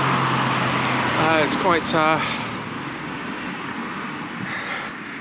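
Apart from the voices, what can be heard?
road traffic noise beside Colchester's Roman wall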